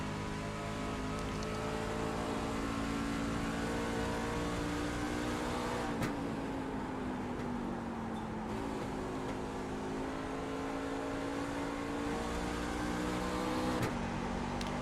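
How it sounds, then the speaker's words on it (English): Racing car engine in a simulated Blown Piston Racing League race at Phoenix, droning steadily at high revs with pitch drops as the driver shifts down to third gear for the turns, loud and continuous with no talk. "here you can hear that Jason Branch is one of those drivers that is actually shifting down to 3rd gear in those turns"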